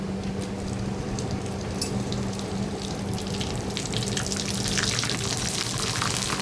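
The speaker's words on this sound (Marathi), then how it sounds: "तर तेल छान गरम झालेलं आहे आता कुरडई टाकून घेऊ आपण तेलामध्ये" Kurdai, white wheat crisps, dropped into hot oil to fry, giving a steady hissing, bubbling sizzle that grows brighter and more crackly toward the end, with a faint low hum underneath.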